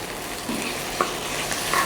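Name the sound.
beef being stir-fried for nasi goreng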